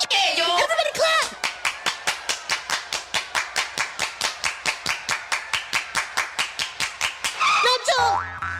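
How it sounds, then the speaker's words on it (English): Children in a grade 2 body-parts dance class clap steadily in unison, about four crisp claps per second for several seconds, with young voices briefly at the start and end. "Everybody clap."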